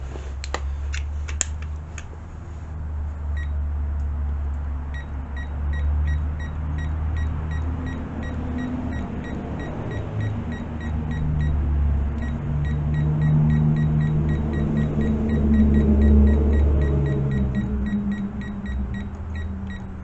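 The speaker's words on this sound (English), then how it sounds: "There, hear the beep, we got it torqued." Torque wrench set to 18.4 sounding a repeated series of sharp electronic beeps once the set torque is reached, over a low steady engine-like hum.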